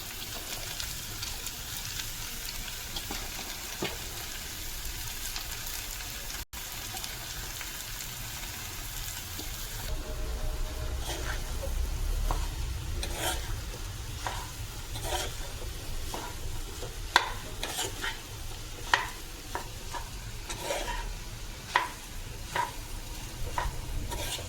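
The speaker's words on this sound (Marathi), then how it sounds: "तर आता आपला राईस घालून घेऊया." Cooked rice is tipped into a hot pan for egg rice and stir-fried, giving a steady sizzle with scraping and tapping from the spatula that grows busier and more frequent as the stirring goes on.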